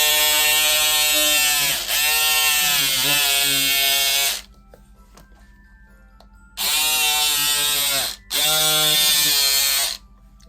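An electric cutter buzzes loudly as it cuts a leaf shape from vinyl, in two bursts of steady high-pitched whirring separated by a quiet pause, with a short break in the second burst.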